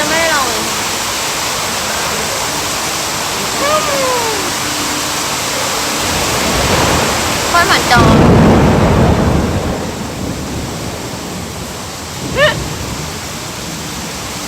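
Heavy rain pours steadily as a dense, close hiss, with a deep rumble of thunder swelling midway; a voice talks briefly over the downpour.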